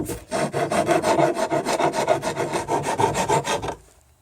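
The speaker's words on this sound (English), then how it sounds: "It's a bastard file." Steel bastard file rasping across a wooden rudder in rapid, regular back-and-forth strokes, close and loud, about a dozen strokes before stopping abruptly.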